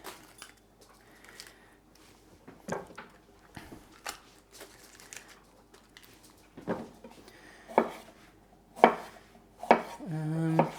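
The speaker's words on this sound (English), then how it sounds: "So this one I'll just cut into little cubes as well." A knife cuts a regular bell pepper into small cubes on a board: irregular light taps and scrapes that grow into louder, quicker chops toward the end.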